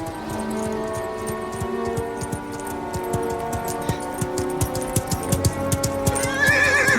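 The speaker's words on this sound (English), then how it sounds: "I brought your horse back." A horse whinnies loudly near the end while hooves clip-clop in a steady, quickening rhythm, getting closer and louder.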